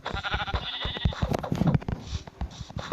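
Several Minecraft sheep bleats ring out in quick succession over a busy backdrop of game clicks and effects, loud and close.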